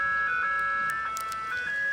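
An ice cream truck in Fresno, California plays its looping electronic chime tune, a steady bright melody carrying continuously through street noise, fairly close and clear with no talking.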